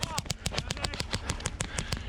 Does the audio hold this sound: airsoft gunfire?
yes